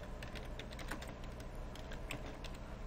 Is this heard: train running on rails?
no